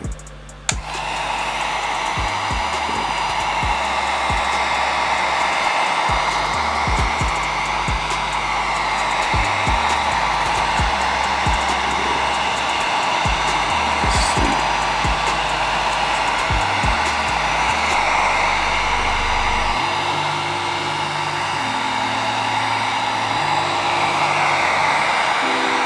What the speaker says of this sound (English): So I got my heat gun right here.